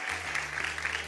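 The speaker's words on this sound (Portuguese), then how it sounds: "palmas pra Mogi Guaçu!" Brief, moderately faint applause rises from a studio audience on a Brazilian children's television show, an even patter of clapping with a low steady hum beneath.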